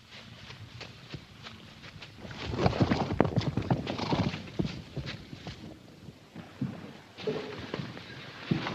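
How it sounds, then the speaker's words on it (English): A herd of horses stampedes in an old film soundtrack, a dense rumble of clopping hooves that swells and recedes with occasional neighing, heard alone without talk. "Damn them horses."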